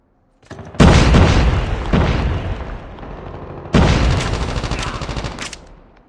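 A frag grenade detonates in Call of Duty Mobile with a loud, close booming blast that rolls off, followed about three seconds later by a second heavy explosion that fades out.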